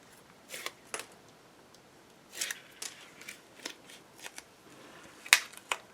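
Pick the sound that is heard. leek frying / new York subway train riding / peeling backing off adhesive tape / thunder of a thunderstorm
peeling backing off adhesive tape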